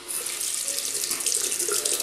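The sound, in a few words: tap running hot water onto shaving soap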